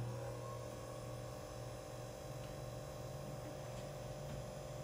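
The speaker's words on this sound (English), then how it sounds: "Based on the sound of the rotor, we should have balanced it pretty well." A balanced rotor spinning on a single-plane balancing rig gives a steady, smooth machine hum with a faint mains-like drone and buzz, constant and even throughout, with no talking.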